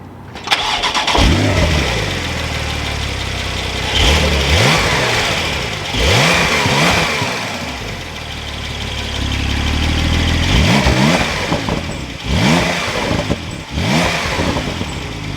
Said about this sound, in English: we can just grab this piece on the far left side, turn it, and that will fire up the ignition